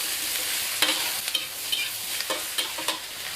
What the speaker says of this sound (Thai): ผักสลดได้ที่เราก็เอาเต้าหู้ค่ะ ใส่กลับลงไปค่ะ คลุกเคล้าก่อนซักรอบสองรอบนะคะ